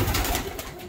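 A Budapest deres goylak pigeon coos softly while being picked up and handled, a brief low murmur up close against a noisy background.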